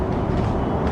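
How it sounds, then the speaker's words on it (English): A Brisbane Metro bus passes close by on a suburban road, its steady engine and road roar filling the second at constant loudness with no talk. "there's yet another metro passing"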